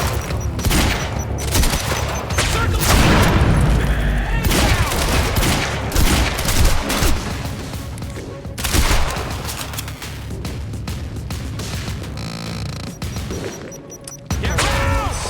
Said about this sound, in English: Stop with those damn grenades.